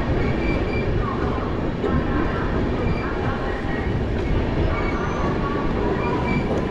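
An express sleeper train at Ludhiana Junction station, a dense steady rumble of rolling carriages and rail noise with faint squeals, loud and close throughout, with voices murmuring among the crowd.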